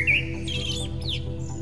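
Bird chirping with high, bright tweets over a steady low background hum, a clear call at the start followed by fainter scattered chirps.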